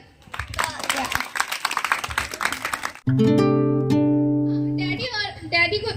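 Applause at a mimicry and anchoring performance, a burst of hand clapping for about three seconds, then giving way to sustained tonal sound and voices.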